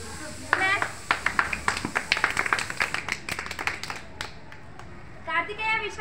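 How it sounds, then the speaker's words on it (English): Pre-primary nursery children clap their hands in a classroom, a ragged burst of many quick, uneven claps that thins out into scattered single claps, with an adult voice speaking at the start and end. "Clap."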